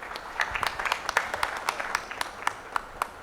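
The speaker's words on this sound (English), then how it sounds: "Let's have a big round of applause from him." A small audience at a report launch event claps in a sparse, uneven patter of distinct hand claps. The sound is fairly quiet and steady, with no voices over it.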